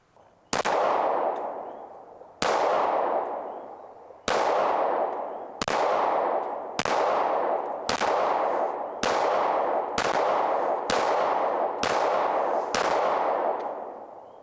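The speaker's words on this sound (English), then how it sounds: "we are going to shoot this gun first" An HK CC9 micro-compact pistol fired on a range, about a dozen sharp loud shots with ringing decay, spaced slowly at first and then quickening into an even rhythm.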